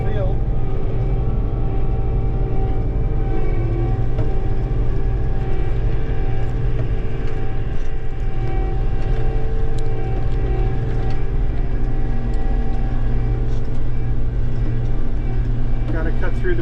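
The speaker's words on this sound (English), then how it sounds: "So I'm gonna shift into low gear here and cut back through the woods to the first field." A vehicle engine drones steadily in low gear while driving through woods during harvest prep, with a loud, constant low rumble and hum throughout, close to the listener.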